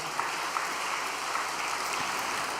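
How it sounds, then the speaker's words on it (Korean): Steady applause from an audience at a church gathering, moderate and even throughout, a continuous wash of clapping with no voices. "다시 한번 이 친구를 위해서 큰 박수 부탁드리겠습니다."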